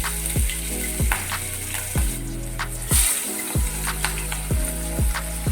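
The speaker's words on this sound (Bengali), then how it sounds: "তেলটা গরম হলে মাছটা আমি হালকা করে জাস্ট ভেজে নেব, একদমই হালকা।" Hilsa fish fry lightly in hot oil with a steady, loud sizzle. Rhythmic clicks and scrapes of a utensil turning the pieces repeat through the sizzle, and nobody speaks.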